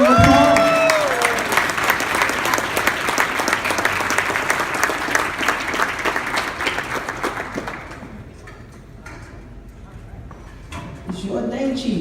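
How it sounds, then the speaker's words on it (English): A banquet crowd bursts into a loud, sustained round of applause for a retiring police chief, dense clapping that thins out toward the end before a voice speaks again. "Let's give him a round of applause"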